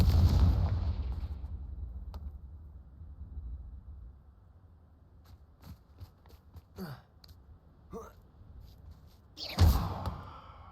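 Confringo explosive spell in the Hogwarts Legacy video game: a booming blast opens, then a low rumble fades into scattered small pops and whooshes, and a second loud burst follows near the end.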